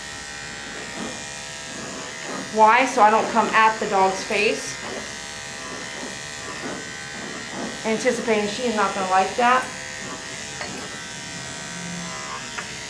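A close electric dog clipper with a number 4 guard buzzes steadily throughout a dog grooming while someone talks over it in two stretches.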